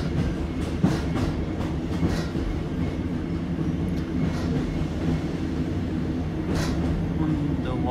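Inside a moving train on the line at Okehampton: a constant rumble of wheels on rails with rhythmic clicks and occasional rattles, steady throughout.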